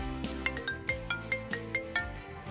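A mobile phone ringtone plays a bright, repeating melodic pattern of short chiming notes in a regular rhythm, fairly quiet and with no talking over it, in an animated cartoon scene.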